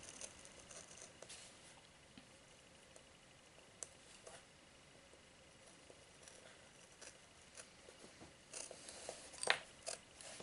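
A cutter knife scrapes and cuts into Tetra Pak carton in small faint ticks and scratches, growing into a few sharper scraping strokes near the end.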